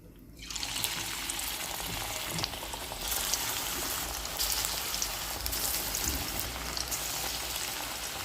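Oil heats in a wok before frying, giving a steady crackling sizzle that rises quickly from near silence and then holds at a moderate level with faint spitting pops.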